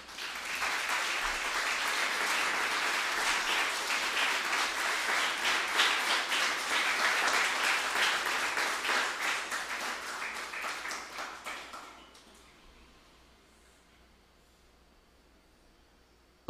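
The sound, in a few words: congregation applauding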